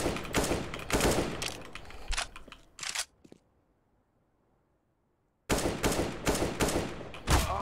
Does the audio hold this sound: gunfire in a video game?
yes